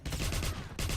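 Rapid sustained bursts of a mounted machine gun in the Wolfenstein video game, loud and continuous with a short pause before firing resumes, no talk over it.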